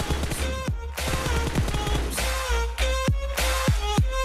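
Rapid automatic gunfire in PUBG Mobile while moving toward cover comes in close, sharp bursts of several shots each, separated by brief pauses, with no talk over it.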